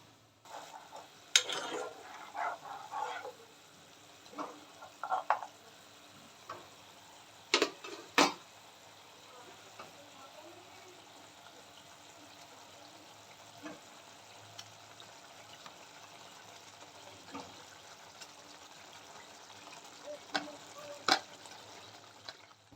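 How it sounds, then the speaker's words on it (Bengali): Fish curry gravy simmering in a pan gives a soft, steady bubbling sizzle throughout, with occasional sharper clinks and stirring taps scattered over it, recorded close with no speech. "তো ঝোলটা একটু ফুটুক, ফুটলে মাছগুলোকে দিয়ে আবার নামিয়ে নেব।"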